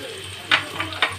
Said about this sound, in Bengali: এখন দিয়ে সবজির সাথেই নেড়ে নিলাম মুগ ডালটাকে